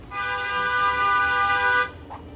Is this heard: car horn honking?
yes